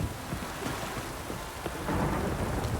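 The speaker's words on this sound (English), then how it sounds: "No use doing any work in this rain." Rain beats down in The Witcher 3 during a thunderstorm, a thick, constant wash of drops with low thunder rumbling underneath and no voices.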